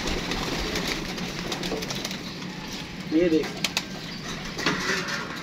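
A pigeon gives a brief, soft coo midway through, heard beneath someone talking over a noisy outdoor background.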